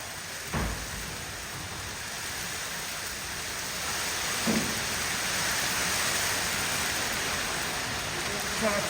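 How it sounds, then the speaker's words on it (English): Hail pelting down outside an office window, a dense steady roar of hard pellets with a few louder thumps of impact close by. "Got a proper hailstorm going on."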